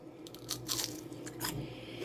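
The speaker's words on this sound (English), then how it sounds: "You can hear the batter crunching on them." Close, crisp crunches of someone biting into fried battered mushroom, several sharp crackling bursts in quick succession over a quiet background.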